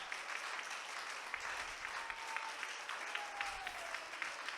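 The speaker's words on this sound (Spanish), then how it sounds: "Dele más fuerte esos aplausos al Rey de Reyes y Señor" Church congregation clapping in praise during a worship service, a fairly quiet, distant wash of steady applause with a few sharper claps and faint voices behind it.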